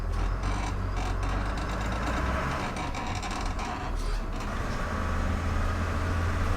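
Older Dennis Eagle truck with a partly single-mesh gearbox picking up speed, its loud, rough engine noise filling the cab in a continuous dense roar with a rattling, clattering edge throughout.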